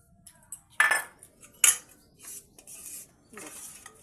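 Home-cooked food, including garlic-tempered lentil dal, is served onto plates with cutlery, giving a few separate close scrapes and clinks of spoons against dishes between quiet pauses.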